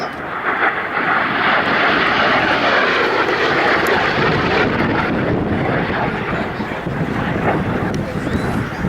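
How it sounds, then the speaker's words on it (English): An F-86 Sabre jet roars past loudly and continuously during an air show demo, its engine noise mixed with heavy wind buffeting on the microphone. "That is a great sight and a great sound of a historical aircraft"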